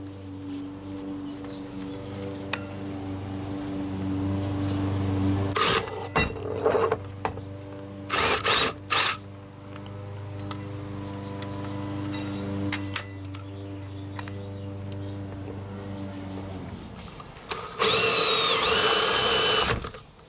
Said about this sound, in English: we're going to go really stupid slow